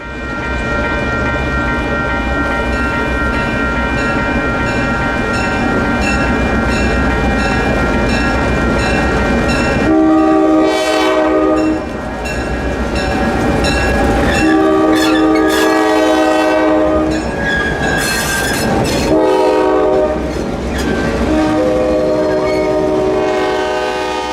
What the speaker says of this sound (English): the train rounded the curve